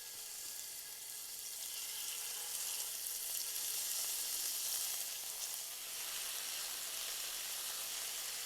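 Steak frying in olive oil in a skillet, a steady loud hiss of sizzling that continues evenly throughout, with no voices.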